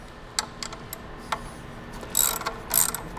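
A ratchet with a 1/2 inch socket loosening 5/16 bolts on the mid-plate of a Knight Light tower: several scattered light mechanical clicks, then two short bursts of fast ratcheting, close and fairly quiet.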